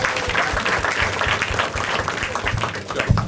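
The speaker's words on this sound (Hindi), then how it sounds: "एक बार ताली बजा दें इन दोनों के लिए।" Steady applause from a stand-up comedy crowd, dense even clapping filling the room throughout.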